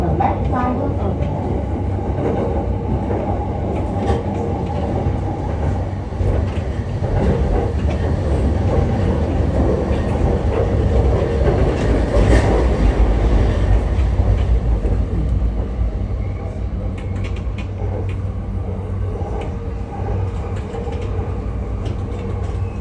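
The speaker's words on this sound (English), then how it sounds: "I always like to start these live streams on the train" Inside a Tokyo Yamanote Line commuter train near Uguisudani Station: a loud, steady rumble of the moving carriage with rail clatter, swelling midway, with faint voices in the background.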